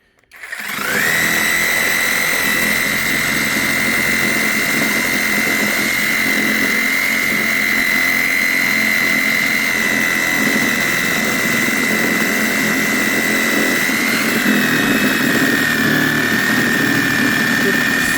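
A power saw runs steadily through a brick in a village construction setting, a loud continuous whine with a strong sustained tone, holding for most of the stretch and dipping slightly near the end.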